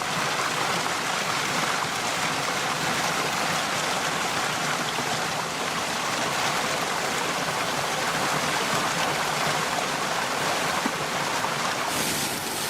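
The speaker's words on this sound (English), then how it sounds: "This is the dragon fountain, the fountain of the 4 dragons." Water splashes and rushes continuously from the Fountain of the Dragons at Villa d'Este in Tivoli, a dense, bright hiss, steady and fairly close, with no talking.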